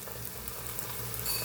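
Ginger garlic paste sizzles in hot oil in a pan, a quiet continuous frying hiss with light bubbling, close and without voices.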